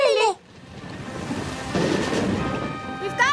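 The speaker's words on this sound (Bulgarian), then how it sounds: "Такава буря може да се движи много бързо." A thunderstorm near a beach: a low rumble of thunder swells under steady rain noise, with brief bursts of other sound at the start and end.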